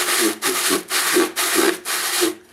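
Sandpaper rubbed in circular strokes over a flat sheet of ordinary glass to true a metal part from an old Soviet 12-ton jack, giving six rhythmic, close, loud rasping sweeps with brief pauses between them.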